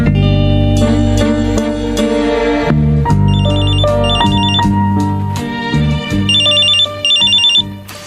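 A cellphone ringtone plays loudly and continuously, a melodic electronic tune with repeating high chiming phrases over a steady bass line, alone with no talk.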